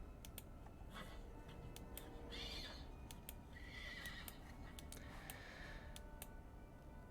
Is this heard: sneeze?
no